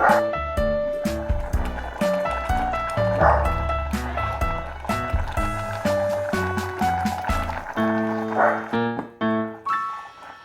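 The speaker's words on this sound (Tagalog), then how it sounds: "Ang ingay ng aso namin" A couple of dog barks break through upbeat background music, one early and one near the end.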